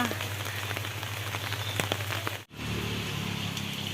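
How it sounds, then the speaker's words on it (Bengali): Steady rain patters on a street with a low hum underneath, cutting out briefly partway through before continuing. "পুরো বৃষ্টিতে রাস্তা ঘাট কি অবস্থা"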